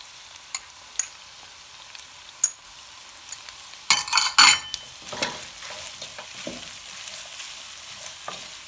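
Tomato paste, chickpeas and spices stirred in a hot pan for a sour topalak stew, with a steady low sizzle, scattered scraping strokes and a louder burst of clattering stirring midway.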